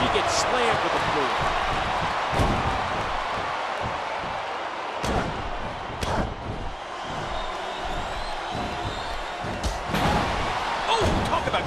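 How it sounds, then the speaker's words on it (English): A wrestler slammed to the floor in a SmackDown match: heavy thuds and slams on the ring canvas amid a constant roaring crowd, with commentary running over the action. "And she gets slammed to the floor."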